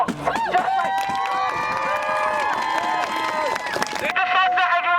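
A large street protest march crowd cheering, whooping and clapping, a dense continuous roar of many voices with shouts rising above it.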